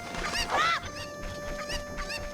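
Chickens (Cuccos) in Ocarina of Time give a few squawking, honking clucks in short bursts, moderately loud over a quiet game background.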